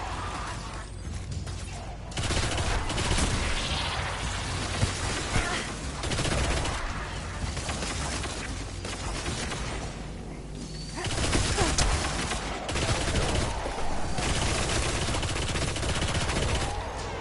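Heavy weapon fire in Destiny's Rise of Iron war mines, long bursts of rapid automatic shots with mechanical clatter, loud and near, broken by short pauses.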